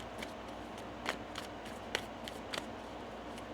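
Tarot cards being shuffled by hand, a soft continuous riffle with several sharper snapping flicks spread across, close and clear with no talking.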